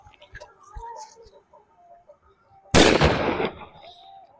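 A Cock brand mini bullet Diwali firecracker goes off with one sudden loud bang and a short rough decay, after quiet outdoor background with faint voices.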